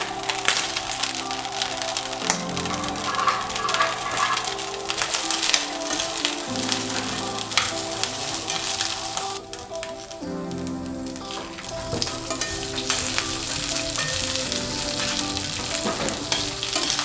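Steady, loud sizzling of vegetables frying in hot oil, with occasional stirring and clattering over the continuous crackle.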